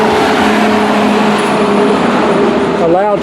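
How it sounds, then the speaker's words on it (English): A loud school bus rolls past close by on a sidewalk that serves as the Appalachian Trail in Damascus, a heavy steady engine roar with a brief rising whine near the end. "A loud school bus going by us right here."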